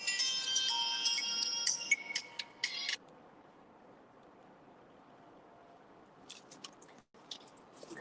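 A mobile phone ringtone chimes loudly for about three seconds and stops, leaving a faint indoor hush, then a few brief clicks near the end.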